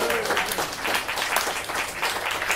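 An audience at a limerick competition final claps and cheers, a dense wash of applause that stays full and steady throughout, heard close from within the hall.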